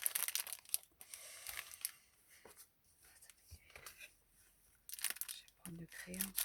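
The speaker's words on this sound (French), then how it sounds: "Je déballe au fur et à mesure que ça vient." Paper being torn and crinkled while a prize package is unwrapped, in close rustling bursts at the start and near the end with quieter pauses between, and a person talking briefly.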